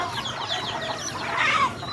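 Chickens in a backyard poultry pen at dawn, a steady chorus of clucks and short calls close by, rising slightly toward the end, no voices.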